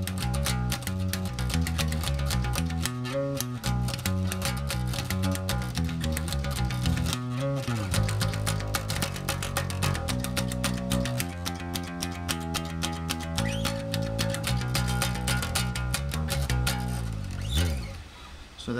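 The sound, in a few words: electric bass guitar being played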